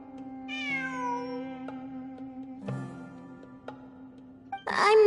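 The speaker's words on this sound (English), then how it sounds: "It really is a cat." A cat meows in a video game during a ruins exploration event: one long, falling meow stands out clearly over a steady low in-game hum, followed by a few faint clicks and a louder burst of game sound at the end.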